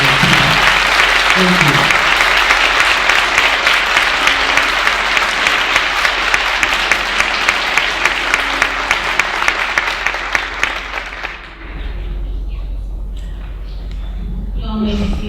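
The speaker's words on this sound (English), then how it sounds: "Let's give all of our young people a warm round of applause." Large audience gives a warm, sustained round of applause for young people at a Memphis City Youth Council inauguration, steady clapping for about eleven seconds before fading into room tone, with brief speech under it.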